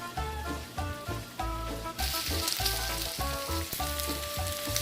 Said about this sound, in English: As you can see, the meat is cooking.